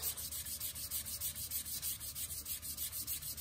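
Sandpaper rubs back and forth over a vintage leather strop in quick, even strokes, a close, rhythmic scratchy rasp repeating about five times a second without pause.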